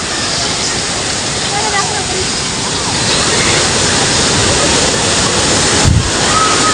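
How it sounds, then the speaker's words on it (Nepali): Okhreni Waterfall near Sundarijal, Nepal, roars as a constant loud broadband rush of falling water. People talk faintly beneath it. "यही हो क्या झरना"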